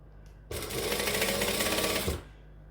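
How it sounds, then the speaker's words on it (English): A sewing machine runs in one steady burst of stitching and back stitching, close and fairly loud, starting and stopping abruptly after about a second and a half. "So I'm going to stitch and back stitch and then just slowly work my way around"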